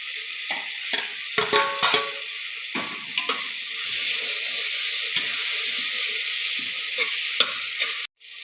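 Cloves, cinnamon, and crushed ginger and garlic fry and sizzle steadily in a cooker, with intermittent stirring scrapes and clinks rising above a continuous close hiss.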